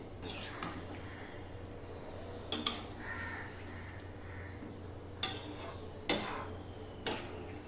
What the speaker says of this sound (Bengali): একটু নেড়ে দিতে হবে।